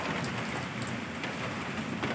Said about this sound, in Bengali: দেখেছো ভালো বৃষ্টি হচ্ছে